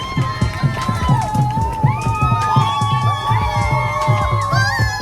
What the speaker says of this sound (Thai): น้องๆนักศึกษาออกมาเชียร์กัน